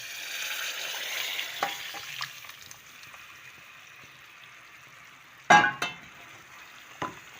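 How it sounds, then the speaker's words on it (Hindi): A spoon stirs thick sugar syrup into moong dal halwa in a pan, making a faint, soft sizzle with scraping strokes, then a sudden loud clatter of the spoon near the end. "अब हम इसमें चम्मच हिलाएंगे। ये हम अब मिक्स कर रहे हैं अपनी चाशनी आहिस्ता आहिस्ता।"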